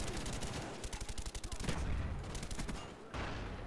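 Rapid gunfire from Call of Duty: Black Ops 1 on PC, including silenced shots, crackling in dense bursts with a heavier stretch midway, under occasional commentary.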